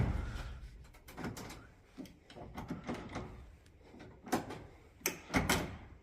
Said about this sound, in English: So the door latch is good.